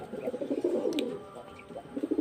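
Pigeons cooing nearby in soft, throaty, repeated bursts, a low bubbling murmur with a faint higher chirp in the middle.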